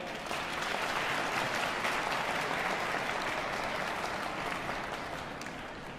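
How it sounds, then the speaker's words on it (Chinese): A concert hall audience at a violin competition finals applauds to welcome a speaker, a sustained, dense round of clapping that holds steady and then tapers slightly near the end. "掌声有请。"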